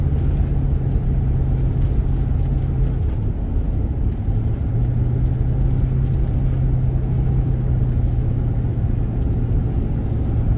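A car drives at about 40 mph on a 55 mph road in Georgia at night, giving a continuous low road and engine rumble from inside the vehicle with no speech.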